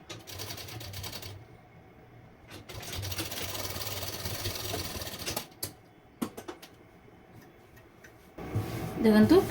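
A sewing machine stitches the upper gota lace border of a princess-cut blouse in steady mechanical bursts, broken by pauses and a few sharp knocks, ending in louder handling clatter.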